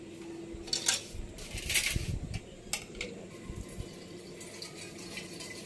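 Water poured into a glass in a village home, a faint trickle with light clinks and a few sharp taps of glass or metal over a low background hum, heard without talking.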